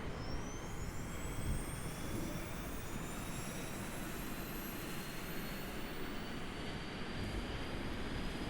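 Jet aircraft engine spooling up on a runway in Kerbal Space Program, a steady dense roar with a rising whine climbing in pitch, constant and loud throughout.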